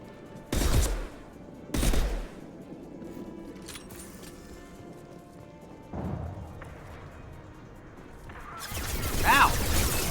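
Two loud isolated gunshots in the video game Mass Effect 2, a few seconds apart, followed by a duller impact and a rising burst of noise at the end, with no talk over them.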